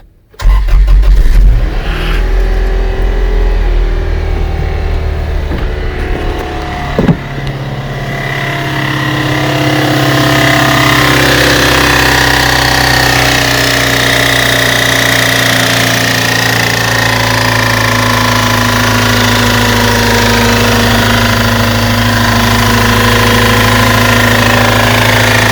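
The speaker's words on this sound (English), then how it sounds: "My crankshaft pulley is a little off balance and it is throwing everything off." A Toyota Tacoma engine with an off-balance crankshaft pulley starts up and runs, settling into a loud, steady idle with a constant drone and harmonic hum that continues alone for the rest of the stretch.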